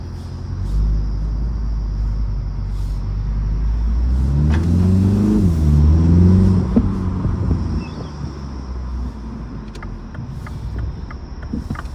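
A 2025 MINI Cooper S Convertible pulling away, its engine rising in a smooth rev with a gear shift midway, heard from inside the car as a steady, close drone with road noise and no talking.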